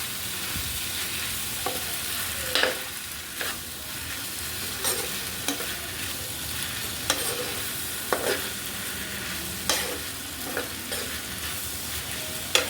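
Noodles with chicken balls and chicken sausage stirred in a frying pan, a soft continuous sizzle broken by repeated sharp scrapes and clinks of the utensil against the pan, with no voices.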